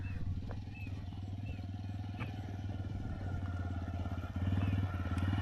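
A motorcycle engine runs at a steady idle nearby, its low throb continuous and growing slightly louder near the end.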